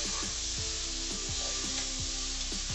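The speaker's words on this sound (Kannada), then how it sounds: "ಈಗ ನಾನು ಇದಕ್ಕೆ ಅವರೆಕಾಳು ಹಾಕ್ತಾಯಿದ್ದೀನಿ, ಇಸ್ಕಿರೋ ಅವರೆಕಾಳು, ಇದನ್ನು ಸ್ವಲ್ಪ ಎಣ್ಣೆಯಲ್ಲಿ ಫ್ರೈ ಮಾಡಬೇಕು" Field beans (avarekalu) frying in oil give a steady, broadband sizzle, with a spatula scraping the pan in regular strokes about twice a second.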